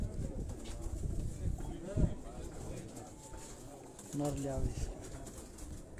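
Chapde pigeons of a pigeon master of Quetta, held in the hand, give soft cooing calls close by, with someone talking over them throughout.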